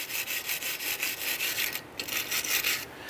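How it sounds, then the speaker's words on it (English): A wire brush scrubbing rust from the rear brake slide brackets of a 2003-2007 Jeep Liberty: close, rhythmic back-and-forth scratching strokes, steady and fairly loud, with no voices. "clean these slide brackets right here. Use a wire brush."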